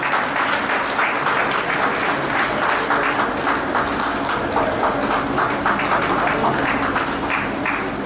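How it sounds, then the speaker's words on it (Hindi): An audience at a museum inauguration applauds loudly and continuously, with dense clapping that stays at an even level from start to finish and no speech over it. "बिल्कुल जोरदार ताली बजते रहे।"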